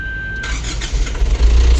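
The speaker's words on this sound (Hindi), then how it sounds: "आपको बिस्मिल्लाह करें, जरा स्टार्ट करके दिखाएं।" A 2026 Foton M290 turbo-intercooler truck engine starts with a brief electronic tone and a crank, then settles into a loud, close, rumbling idle with no talking.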